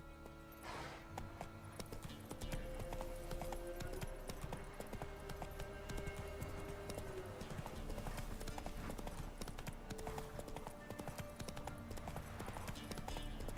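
Hooves of Geralt's horse Roach in The Witcher 3 clip-clop steadily at a gallop, a fast, even rhythm close by, with game music and ambience underneath and only faint voice.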